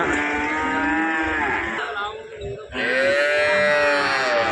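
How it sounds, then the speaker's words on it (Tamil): Cattle at the Karungalpalayam livestock market in Erode: two long, loud mooing calls nearby, the first fading out before a second, stronger moo rises and holds to the end, over faint crowd murmur. "இந்த மாதிரியான மாடுகள் நல்ல காளைகள்லாம் அருமையாகவே வரும்"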